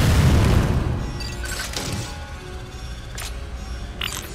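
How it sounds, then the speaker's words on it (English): The eruption port is blasted in Metroid: Other M, setting off a loud, deep boom at the start that rumbles and fades, followed by lighter mechanical creaks and clanks. "Blast the eruption port to get the magma flowing"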